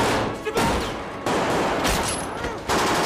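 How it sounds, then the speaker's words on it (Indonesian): Film gunfight between a SWAT team and ISIS fighters inside a building in Iraq, with dense bursts of rapid gunfire and loud shots separated by brief lulls, with no talk. "terjadi baku tembak antara tim SWAT dengan kelompok ISIS"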